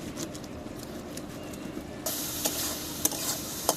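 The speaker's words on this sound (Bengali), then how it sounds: "মশলা কষানো হয়ে গেছে" Spice masala being sautéed in a pan for a fish dish, a steady close sizzle with stirring scrapes that jumps louder partway through, with sharp clinks near the end.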